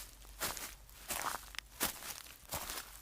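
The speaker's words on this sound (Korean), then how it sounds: "멀리서 발소리가 들리는 게 아니오" Footsteps crunch along a mountain pass path, several soft irregular steps at a walking pace, faint and distant under a steady background hiss.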